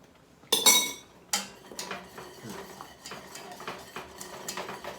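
A utensil clinks and scrapes against a pot while chocolate pudding is stirred, with two sharp metallic knocks at the start followed by a run of lighter, irregular taps and scrapes close by.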